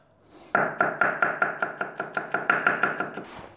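Quick, regular knife chops dicing a garlic clove on a board, about a dozen crisp taps in a row, close and fairly loud, with no voices.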